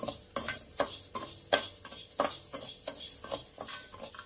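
Dal is stirred as it lightly fries in a wok, with a spatula scraping the metal in quick, repeated close strokes, about a dozen crisp clinks and scrapes over a soft sizzle.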